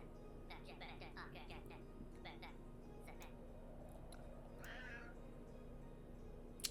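A cat meows in the video game A Tiny Tale, giving a few short, faint mewing calls over quiet game background hum, with soft ticking clicks and a voice faintly present.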